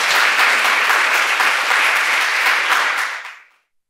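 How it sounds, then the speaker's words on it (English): An audience at a forestry conference on Austrian forests gives a dense, loud round of applause that fades out quickly at the end. "Please give one more round of applause to Stephanie Bateman and Martina Perzl."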